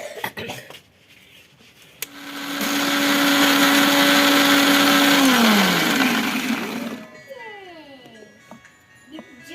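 A kitchen blender grinds ginger, salt and vinegar into a spicy chutney paste, a loud steady whine that holds for several seconds, then drops in pitch and winds down, with clatter and a voice before and after.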